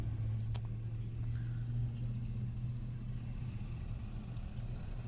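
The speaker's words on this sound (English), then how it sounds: "Yeah, bunch of cars." Cars pass along a town road in a steady, fairly distant engine rumble that stays even and moderate throughout.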